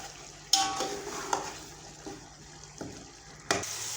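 Aloo palak, a potato and spinach mixture, is stirred in a pan with a spoon, giving a few sharp scraping clinks and soft shuffling moist sounds spaced irregularly over a few seconds, fairly quiet and close.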